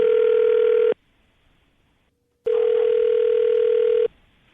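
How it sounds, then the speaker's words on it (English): Two long electronic telephone ringback tones sound loud and clear, each about a second and a half, separated by a silent gap, as an outgoing call rings on the line. "We're going to call him right now, see if we can get him on the phone"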